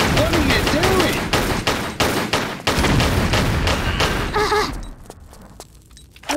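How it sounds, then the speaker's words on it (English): Grenade launcher fire and explosions from Tomb Raider: The Last Revelation, a dense run of loud, sharp blasts and thuds close up. The bursts come in quick succession and fade into a quieter tail near the end. "This is not the place for a grenade launcher!"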